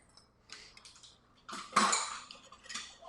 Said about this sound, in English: All right, now mix those guys in with your whisk.